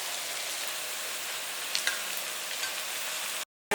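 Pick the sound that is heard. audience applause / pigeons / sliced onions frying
sliced onions frying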